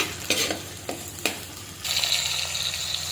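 Onions frying with curry leaves and salt, stirred with a few scraping strokes over a steady sizzle that grows louder and brighter toward the end.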